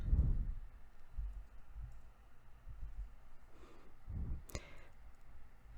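Computer mouse clicks, a few soft, close clicks spread across a quiet stretch with faint low bumps, no voice.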